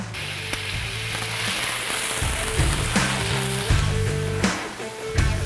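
Shrimp sizzle loudly on a Blackstone griddle as tequila is added, a dense crackling hiss with sharp pops and spatters throughout.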